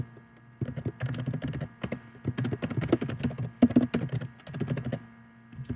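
Fingers type on a computer keyboard nearby in quick irregular bursts of clicks, pausing briefly between words, with no voices heard.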